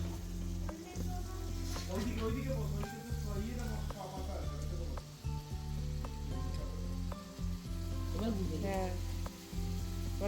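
Green chillies sizzle and fry in a kadai, a steady, loud crackle with occasional stirring scrapes, while a voice talks faintly underneath.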